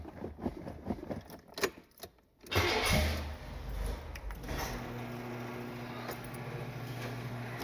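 A 1981 Corvette engine cranks and catches after a jangle of keys, then settles into a steady, rumbling idle close by, with no voices.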